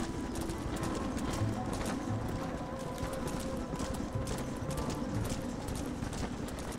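Horse hooves clip-clop at a steady walking rhythm in Red Dead Redemption, near a stable and cattle pen, with faint bird sounds in the background.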